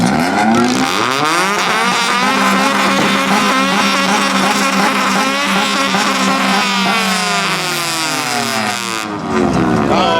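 Several cars revving their engines together at a Clean Culture Japan rev battle, a loud sustained roar of overlapping revs rising and falling close by, easing briefly near the end before surging again.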